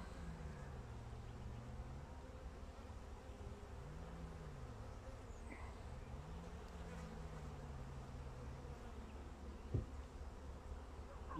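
A steady, low droning hum of many honeybees buzzing together in a hive, continuous and fairly close, with a brief knock near the end.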